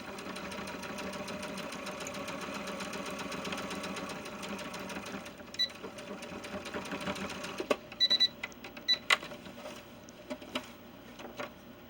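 A sewing machine stitches down the hem of pants for a 70cm male ball-jointed doll, a quiet, steady mechanical whirr that breaks into short bursts of stitching with clicks and pauses.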